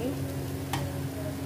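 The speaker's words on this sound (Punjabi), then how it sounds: "ਪਨੀਰ ਪਾ ਕੇ ਇਹਨੂੰ ਮਿਕਸ ਕਰ ਲਓ" Paneer bhurji is stirred in a pan with a spatula, giving a low continuous scraping and light sizzle over a faint steady hum. One sharp clink comes partway through, and no one speaks.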